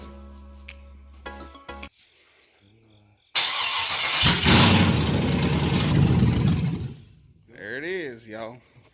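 An engine mounted on a stand cranks and fires, roaring loudly and steadily for a few seconds before cutting out, with voices talking before and after.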